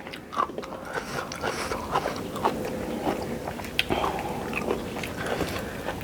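Children eating stir-fried noodles, with soft, close chewing and biting sounds in a steady run of small irregular crunches at low volume.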